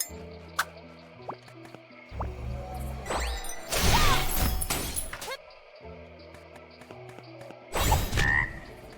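Frog croaks from the video game Rune Fencer Illyia ring out over steady synthesized game music, with a couple of loud, dense bursts standing out above the looping tones.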